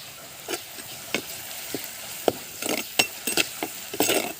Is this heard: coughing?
no